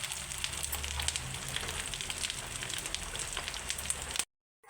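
Spices such as turmeric and chili powder fry in a pan for chicken curry, giving a steady, close, rain-like sizzle that continues evenly before cutting off abruptly near the end.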